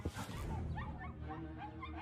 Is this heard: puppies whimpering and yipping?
yes